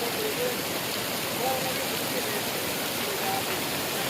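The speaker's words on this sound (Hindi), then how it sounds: "ये पानी के आबशारें गिर रही है और ये आगे तक चल रहा है" Moola Chotok waterfall in Balochistan cascades in a loud, steady broadband roar of rushing water, continuous and close, with faint tonal traces that may be a voice briefly present.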